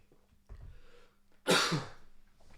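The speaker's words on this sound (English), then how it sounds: "Apologies for the cough there, folks." A single sharp cough bursts out close by after a brief throat-clearing sound, set in a quiet room with soft breathing before and after.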